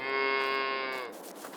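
A single long cow moo rings out in a barn in Farming Simulator 22, loud and close, holding a steady tone for about a second before fading into quiet background noise.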